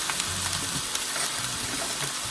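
Chinese fried rice sizzling steadily in a hot pan as a tablespoon of soy sauce goes in, a loud continuous frying hiss with faint stirring scrapes and no talking.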